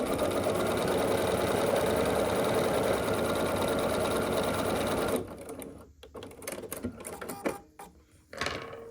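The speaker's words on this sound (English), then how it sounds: "we're going to sew here with a 1/4 inch seam allowance" A sewing machine stitches a half square triangle quilt block at a 1/4 inch seam allowance, with a fast continuous close whirring run followed by irregular shorter bursts and handling noises.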